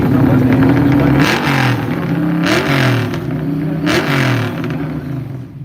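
A 2014 Chevrolet Camaro charges down the Woodburn drag strip, its engine roaring loud and close as it climbs in pitch and drops with each of several quick gear shifts.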